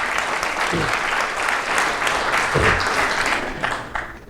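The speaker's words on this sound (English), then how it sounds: "let's do another round of applause back at you all for showing up." Audience at a Birmingham AI meetup applauding, a steady wash of many hands clapping together that holds for several seconds before tapering off.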